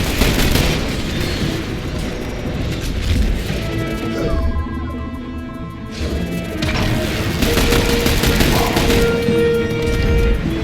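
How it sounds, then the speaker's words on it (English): Combat in the video game The Bureau: XCOM Declassified is loud and continuous, with a grenade explosion and repeated crashing booms and bursts over a dense roar of battle noise. "Grenade! Get down!"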